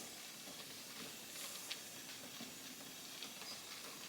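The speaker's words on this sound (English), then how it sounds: "I just put this down in the hole like so, and the steam will start to come up through the other hole." Steam hisses up through a hole in an archtop guitar body during neck removal, a steady faint broadband hiss with a few soft ticks and crackles, close and alone.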